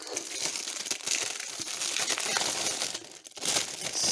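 Continuous crinkling of plastic courier bags, busy rustles and crackles close by with a brief lull near the end before the rustling picks up again.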